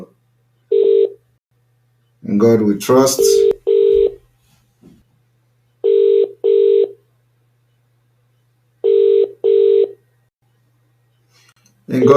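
A phone line rings out on an outgoing call, with three sets of paired ringback tones spaced apart and a voice briefly speaking between the first and second sets.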